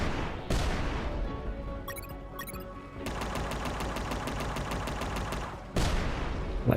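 Rapid bursts of gunfire from the video game UnMetal ring out loud and close, with short volleys, a brief pause, then a long fast stream of repeated shots over steady game background sound.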